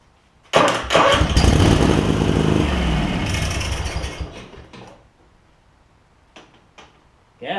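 A Craftsman garden tractor that has sat for three years cranks loudly after carb spray is added, its engine churning steadily for several seconds without catching, then falling quiet apart from a few clicks.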